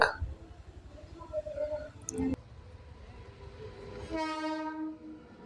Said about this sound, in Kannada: ನೋಡಿ, ಗೂಡ್ಸೇ ಬಂತು. ಇದು ಪರವಾಗಿಲ್ಲ, ಸ್ವಲ್ಪ ಫಾಸ್ಟಾಗಿ ಹೋಗ್ತಿದೆ.